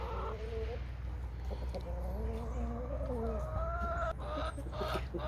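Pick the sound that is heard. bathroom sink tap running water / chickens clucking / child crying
chickens clucking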